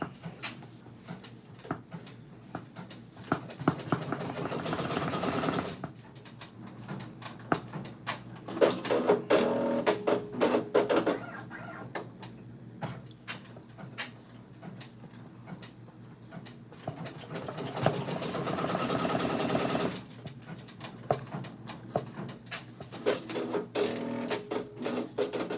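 An embroidery machine stitches a cherry patch with white thread, a rapid mechanical ticking and clatter in bursts separated by quieter pauses, steady and close without speech.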